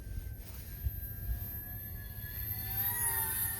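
A Sunnysky OMPHobby T720 RC airplane flies overhead at sunset with a faint, steady, high electric whine that slowly shifts pitch, heard from a distance against low outdoor rumble.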